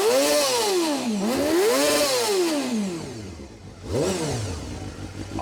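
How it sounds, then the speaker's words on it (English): A 1991 Honda CBR250RR sport bike's small inline-four engine revs up and down in several close, loud sweeps with a rising high-pitched whine, then settles briefly before one more sharp rev and a steady idle. "So we can give it a rev here."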